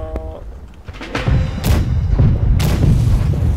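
A ship's cannon fires in the naval combat game Blackwake, several heavy booming blasts in quick succession, loud and close, with rumbling thuds trailing after each shot.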